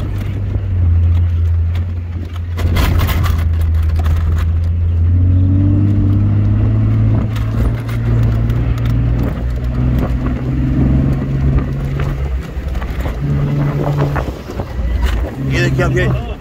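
A 4x4 vehicle races fast over desert dunes on a safari, its engine droning steadily close by with shifting pitch, wind buffeting the microphone and people talking over it throughout.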